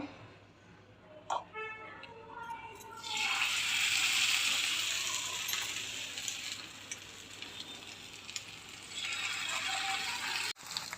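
Batter-coated paneer deep fries in hot oil, with a soft start that swells into a broad, steady hiss of bubbling oil, close and fairly quiet, and a sharp knock near the end.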